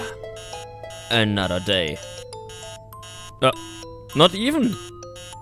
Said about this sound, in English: Who the hell sets its alarm for 3 o'clock?